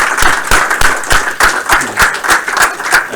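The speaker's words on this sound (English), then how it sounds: "So please give a round of applause to all yourselves" A small group of game studio students and faculty clap, loud and close, in a loose rhythmic pattern of distinct hand claps at about three per second, with no talking over it.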